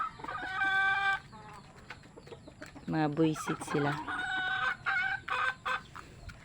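Pet chickens cluck and squawk close by in a backyard coop, with repeated loud bursts and calls, while someone talks over them.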